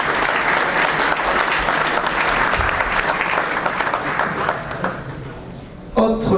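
An audience applauds a medal winner at a regional crafts awards ceremony in Montpellier, a full, steady wash of clapping that thins toward the end before a voice begins speaking.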